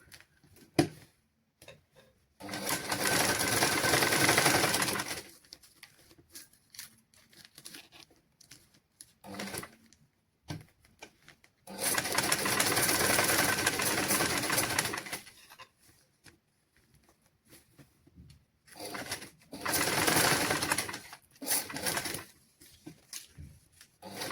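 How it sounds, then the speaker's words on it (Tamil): A sewing machine stitching around polythene in three sustained bursts of fast, buzzing whirr, separated by quieter stretches of clicks and handling while the fabric is repositioned, close and without voices. "வச்சுட்டு இனி நாங்கள் சுற்றி வர தைப்போம்."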